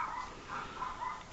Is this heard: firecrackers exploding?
no